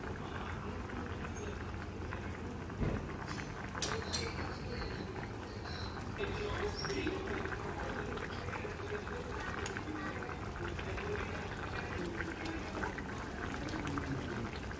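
Rohu fish curry with green chillies comes to a steady boil in a pot, its dense bubbling hiss continuous and close throughout at an even level.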